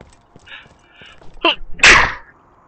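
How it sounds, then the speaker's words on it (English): A single sharp sneeze, loud and close, preceded by a few soft breaths and small sounds, with no talking. "that's a weird sneeze"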